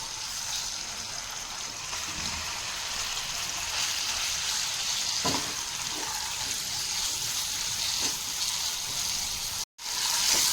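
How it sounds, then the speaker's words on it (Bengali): Chicken added to hot refined oil in a wok, shallow frying with a steady, hissing sizzle that holds evenly throughout, with a brief dropout near the end. "তেল গরম হয়ে গেছে, এবার চিকেনগুলো আমি তেলের উপর অ্যাড করে দিচ্ছি।"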